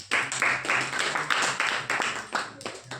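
Scattered classroom clapping comes in uneven bursts during a world map geography lesson, close and fairly loud, with several claps repeating at an irregular rhythm and some voices mixed in.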